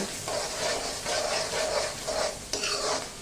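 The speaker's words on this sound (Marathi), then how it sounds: "कांदा छान परतत ठेवलाय" Onions sizzling in a pan for Nashik-style misal, stirred in repeated scraping sweeps about every half second, with a sharp clank partway through.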